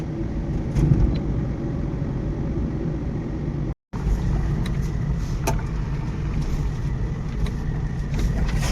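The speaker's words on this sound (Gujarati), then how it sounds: "ગાડી અહીંયા પાર્કિંગ કરી દીધી છે" A car engine rumbles steadily at close range while arriving and parking at a firecracker shop in Halvad, with a brief cut in the middle and no talk.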